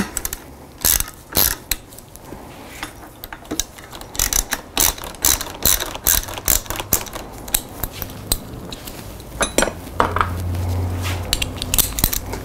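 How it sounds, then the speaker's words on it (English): A ratchet wrench clicks in quick bursts while loosening the stem clamp bolts on the fork of a Sondors fat-tire e-bike. The ratcheting is close and sharp and comes in repeated runs, with a faint mechanical hum near the end. "So I'm gonna start by loosening these two that clamp onto the fork stem."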